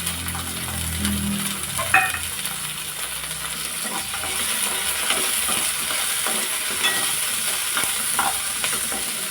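Shallots sautéed in a pan, giving a steady loud sizzle with the scrape of a spatula stirring now and then, close up and with no voices.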